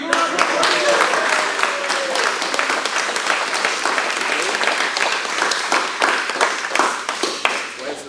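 Applause breaks out for a member being honoured at a gym's belt promotion and awards seminar, a steady dense patter of clapping with a few sharper nearby claps and some voices mixed in.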